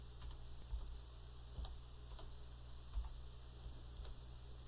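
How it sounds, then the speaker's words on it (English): Faint, sparse keystrokes on a computer keyboard tick at irregular intervals while a date is typed into accounting software for general ledger entries, set against a steady quiet hum. "That's fairly easy to do by just typing in over the date."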